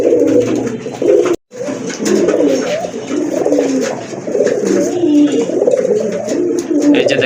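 Pigeons of racing and fancy breeds cooing loudly and continuously at a pigeon sale, overlapping throaty coos close by, broken by one brief silent gap.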